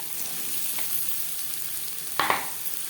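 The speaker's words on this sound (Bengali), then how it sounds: "ডিম ভেজে নেওয়া কড়াইতে আবারও তেল দিয়েছি। এবার দিয়ে দেবো পেঁয়াজ কুচি।" Chopped onions dropped into hot oil in a wok for a fish roe and brinjal curry, a loud continuous frying hiss with a brief sharp burst of sizzle near the end.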